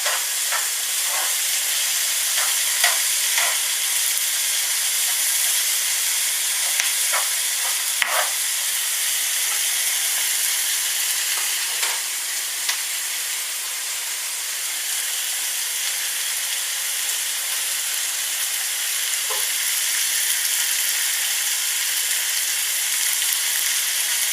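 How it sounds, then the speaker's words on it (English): Onions sizzle and fry in a hot pan, a dense steady hiss throughout with occasional scraping clicks as they are stirred, close up, no talking. "we'll also give these onions a quick stir"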